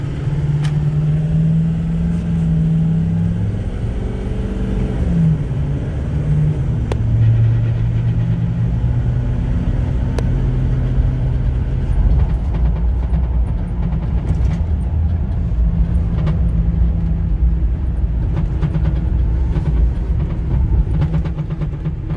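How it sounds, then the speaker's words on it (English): Cab of a moving 2009 Ford F-450 dual-rear-wheel truck with a wooden bed, a continuous loud rumble of engine and road noise with faint scattered rattles and knocks riding over it. "I'm noticing that wooden bed in the back is making a little bit of a rattling noise"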